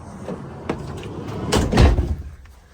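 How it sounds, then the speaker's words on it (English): A door closes inside a Pleasure-Way camper van, a soft slide and then a solid thump with a short rattle, close by and clear over quiet room tone. "let's close the door"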